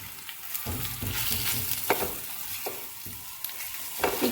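A spatula scrapes and stirs thick khichuri in a pan, giving repeated scraping strokes with soft thuds over a low sizzle, close and fairly loud, with no talking.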